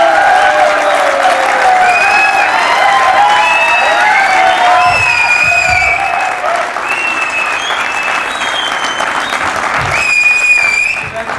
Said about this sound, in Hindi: और एक बार जोरदार तालियां आज के लेखक के लिए